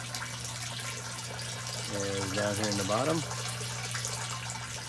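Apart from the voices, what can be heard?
water flowing through aquaponics overflow and pump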